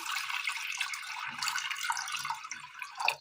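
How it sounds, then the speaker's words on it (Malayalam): Water pours in a steady, fairly soft stream into a cooking pot on the stove, a continuous splashing rush lasting a few seconds with a brief surge at the end. "അല്പം വെള്ളം ഒഴിച്ചു കൊടുക്കാം."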